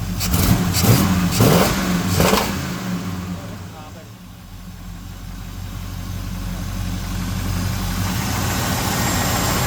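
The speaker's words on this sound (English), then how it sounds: "Carburetor, the sound coming out of the carburetor." A 1975 Chevrolet El Camino's carbureted engine runs steadily at close range, heard at the carburetor, with a few sharp revs early on before settling into a rough, continuous idle.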